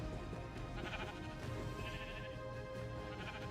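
Sheep bleat repeatedly in a Middle-earth video game, the calls fairly close and layered over a steady game soundtrack with music and ambient noise.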